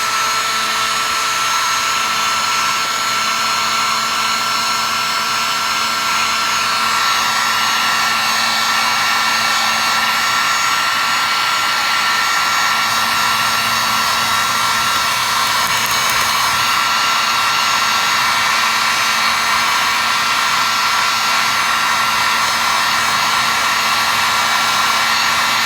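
Heat blower roars loud and constant at close range while drying a school-glue crackle finish, with no pauses and no talk.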